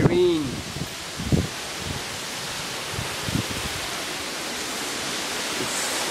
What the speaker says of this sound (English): The wind is getting stronger and stronger right now. You can definitely hear the woods, all the trees are.